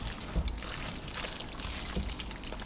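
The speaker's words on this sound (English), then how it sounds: "Stir this up." Tuna noodle casserole with peas stirred with a spoon in a dish, giving soft, quiet wet squelches and a couple of faint scraping taps at an even, unhurried pace.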